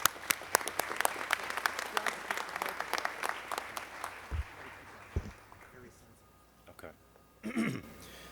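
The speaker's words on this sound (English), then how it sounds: "a big round of applause to everybody" Audience applause at a mayoral event in Detroit, a dense clatter of many hands clapping that thins out after several seconds into a few scattered claps and a brief murmur near the end.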